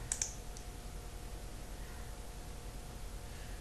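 A computer mouse clicks on a link on a website: a couple of sharp, close clicks right at the start, followed by a quiet, steady background hum.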